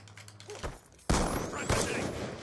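Gunfire from a character shooting while running in a first-person shooter game: a quiet stretch, then a sudden loud burst of rapid shots with a second burst shortly after, ringing on with clatter.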